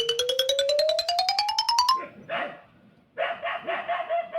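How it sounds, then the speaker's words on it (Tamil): A dog barks in quick repeated bursts, close and fairly loud, after a rising electronic tone that opens the clip. "இந்த நாய் வேற சும்மானே இருக்க மாட்டேது, கத்திக்கிட்டு சை சொல்லிக்கிட்டே இருக்கேன், கத்திக்கிட்டே இருக்கு"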